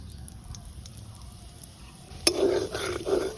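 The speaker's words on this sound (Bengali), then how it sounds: "জিরে ফোড়ন দিয়ে দিলাম।" Cumin seeds drop into hot mustard oil, and after a quiet stretch a sudden crackle gives way to a close, fizzing sizzle that keeps popping softly.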